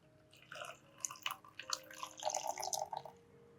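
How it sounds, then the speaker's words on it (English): Tap water poured into a plastic cup, a faint series of small splashes and trickles that come in uneven bursts over a few seconds. "Pour tap water into the other cup."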